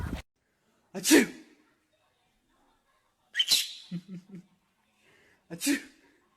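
Three separate sneezes, each a sharp burst of breathy noise, spaced a couple of seconds apart and heard close up with no talk between them.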